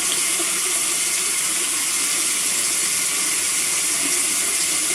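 Hot water gushes steadily from a kitchen tap into a sink, a loud, continuous hiss-like stream close by with no talk.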